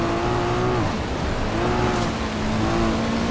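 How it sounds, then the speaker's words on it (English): A car drifting in a racing game, its engine holding a steady droning pitch with tones that dip and rise as the revs shift, over a continuous hiss of tyre and road noise. "Drift this one. This one's so good to drift."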